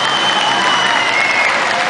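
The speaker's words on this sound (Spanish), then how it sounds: "Aplausos a la pareja número 2." A dense wash of audience applause greets a dancing couple, number two, at a contest in a shopping gallery, steady and loud for the whole stretch with no talking over it.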